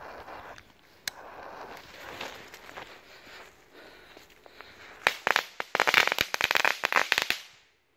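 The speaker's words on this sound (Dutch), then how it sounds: "een paar kleine knetter tonnetjes. Is categorie 1 vuurwerk." Small Category 1 firecrackers crackle in a rapid burst of sharp pops and snaps, following a few scattered crackles and quiet outdoor background.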